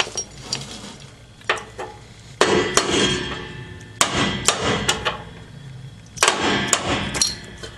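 Irregular metal hammer strikes driving a bolt out of truck suspension ring out in bursts, some blows landing in quick clusters with pauses between, sharp and close with a clanking quality.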